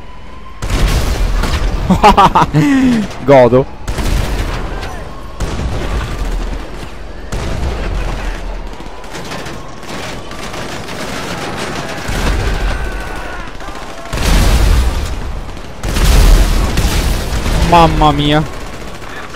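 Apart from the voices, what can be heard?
tank cannon firing in video game Grand Theft Auto V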